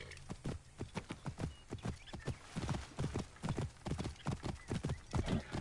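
Hooves of a horse clip-clop at a steady galloping rhythm in the Assassin's Creed Origins video game, close and continuous, with a whinny heard along the way.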